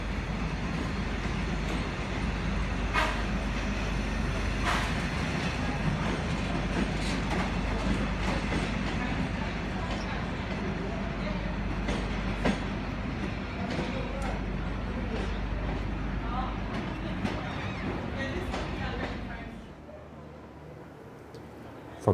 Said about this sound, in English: here's one last clip of the Up Bairnsdale taken in October